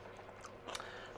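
A crunchy snack coated in chili flakes being chewed close to the mic, a few quiet crisp crunching bites followed by a sharper louder crunch at the end.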